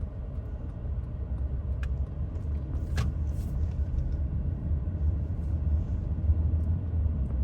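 A car rumbles along at low speed during a driving road test, a steady engine and road drone with a couple of faint clicks, such as the indicator, and no talk.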